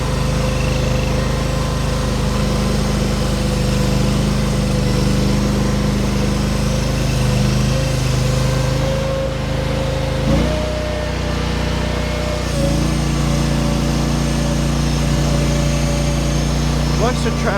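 Small engine of a Derette DRT450 machine running steadily at high RPM, a loud continuous drone with a slight dip in pitch midway, close by throughout.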